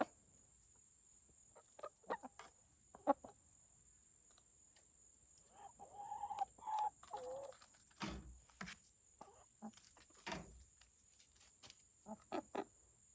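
Chickens kept as family pets clucking and calling in short, faint scattered bursts against a quiet background with a steady high hiss.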